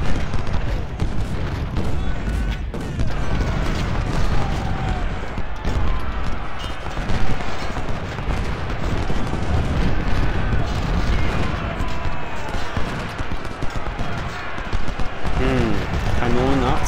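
Cannon and rifle fire from a Civil War battle in Ultimate General: Civil War, Hardin Pike, a dense continuous barrage of booms and volleys at steady loudness under a constant rumble, with someone talking over it.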